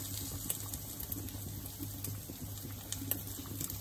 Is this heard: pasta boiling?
yes